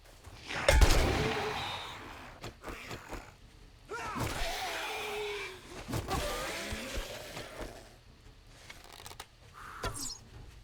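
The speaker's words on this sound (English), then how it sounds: "it's a shotgun right to your face" Gunfire and heavy impacts from the survival video game 7 Days to Die, with a loud opening blast, followed by thuds, mechanical rumbles and a few more sharp bangs spread across the clip.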